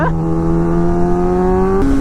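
A Suzuki GSX-R1000 sportbike engine holds a loud, steady high-rpm revving tone, then steps up in pitch near the end, close and sustained throughout.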